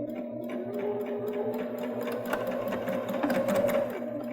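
A Baby Lock Jazz II sewing machine stitches a seam in wool fabric, its steady, rapid mechanical whir and needle ticking running close and continuous throughout.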